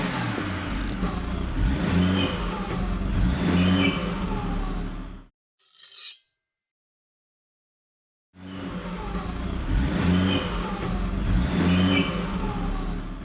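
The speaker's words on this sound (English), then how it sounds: "So we're going to fire it up and see what it sounds like." Ford Falcon turbo engine with upgraded intercooler and exhaust revving nearby, loud rising and falling revs, then a brief blip and near silence for a few seconds before the revving returns.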